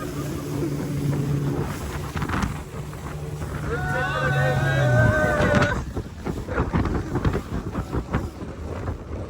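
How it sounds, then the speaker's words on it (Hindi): A boat ride on the water near Thatta, Sindh, with a steady engine drone and wind rushing past, a tonal hum rising and sliding midway, and people talking over the noise. "बोट राइड खत्म हो गई"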